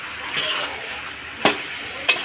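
Fish fry in a hot pan with a steady sizzle, punctuated by a few sharp stirring or flipping clatters, close and clear with no talking.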